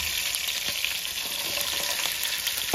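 Cumin, green chillies, curry leaves, cashews, garlic and green peas fry in a ladle of oil, making a continuous loud sizzle and crackle close by, with light stirring scrapes and no voices.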